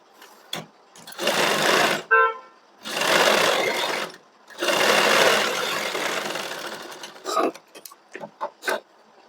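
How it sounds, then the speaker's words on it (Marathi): Sewing machine stitching a puff sleeve runs in loud, steady whirring bursts of about two seconds each, with short pauses and a few brief clicks of handling between runs. "त्याच्यानंतरच मग आपल्याला इथं शिलाई मारून घ्यायची"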